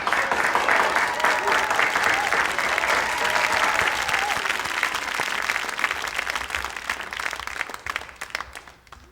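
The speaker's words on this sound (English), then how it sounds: "Let's congratulate them together from wherever you are watching from with a loud round of applause." Loud, dense applause from a commencement audience honoring the graduating class of 2021, sustained and steady for several seconds before tapering off at the end.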